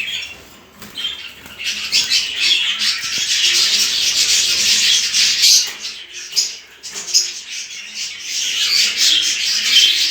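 Budgerigars in a home breeding room chirp and squawk in a dense, continuous chatter of many birds, close and lively, with scratchy rustling beneath and no one speaking.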